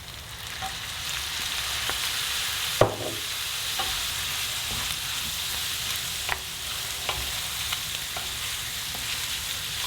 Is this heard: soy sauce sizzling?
yes